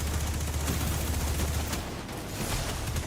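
Sustained rapid gunfire from a weapon in the video game Destiny 2, a dense, continuous stream of shots held loud and close for the whole stretch with no talking.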